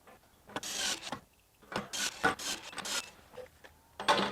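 A Ryobi HP impact driver drives a fastener at its 225 foot-pound setting, producing close, rough bursts of rapid hammering rattle with brief gaps between pulses and a final sharp burst.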